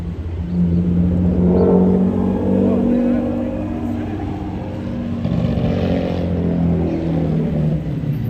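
A Porsche sports car passes along Las Olas Boulevard in Fort Lauderdale, its engine rising to a loud close drone and then easing off, with people talking over it.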